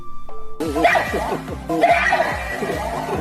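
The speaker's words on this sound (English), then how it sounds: "A panda might bark like a dog to show it's not interested in mating." A giant panda at a zoo barks like a dog in a quick run of short, rhythmic yips and woofs, loud and close, with no speech.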